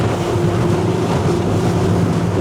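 Jeanneau Merry Fisher 1095 Fly flybridge motorboat banking into a port turn at around 25 knots: a steady, loud engine drone with rushing water and wind noise, continuous throughout.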